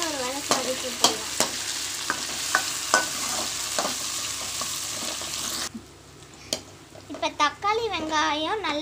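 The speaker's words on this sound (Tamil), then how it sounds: "தக்காளி போட்டு நல்லா ஒரு வதக்கி வதக்கிட்டுக்கலாம்." Tomatoes and onions sautéed in a pan: a bright sizzle with regular spatula scrapes and knocks, then the frying quiets and a voice chatters near the end over softer stirring.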